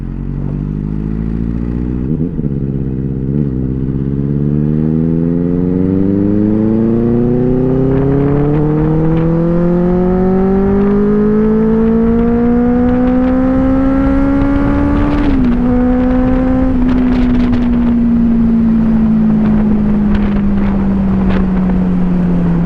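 A Benelli 600i four-cylinder motorcycle pulls away after a U-turn on an empty road, its engine note climbing steadily through the gears, loud and close with heavy wind rush over the microphone.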